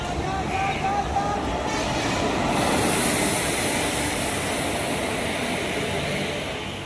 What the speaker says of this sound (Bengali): ফাইনালি কিছুক্ষণ ওয়েট করার পর আমাদের ট্রেন চলে এসেছে।